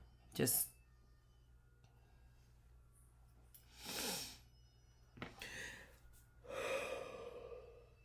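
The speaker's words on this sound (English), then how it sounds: "I wish I could not yawn in a video" A drawn-out yawn with a breathy, rising exhale, preceded by a sharp gasp and followed by soft breathing noises, close and fairly quiet.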